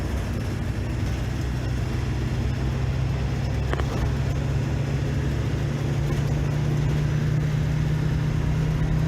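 Steady, continuous rumble of a car engine running at an even pace across a salt flat, with a low drone throughout and no voices, suggesting a vehicle driving or passing nearby on the open flat.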